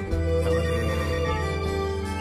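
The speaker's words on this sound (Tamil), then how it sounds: "போன் வருது" A telephone rings in a steady electronic tone with layered harmonics, sustained and fairly loud indoors, with no voices over it.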